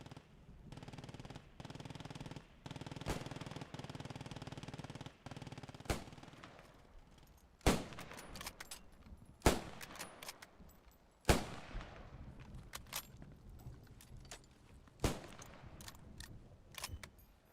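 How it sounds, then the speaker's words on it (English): German machine gun fire in the WWII shooter Post Scriptum, a distant rattling exchange of automatic bursts broken by several sharp, loud nearby shots, with scattered gunfire between them and no talk. "I think the Germans are going to win that MG fight."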